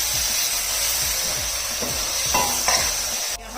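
Chicken with spices being sautéed in a pot for a Hindi-style chicken pulao, with a steady close sizzle under repeated stirring scrapes and a few clinks near the end.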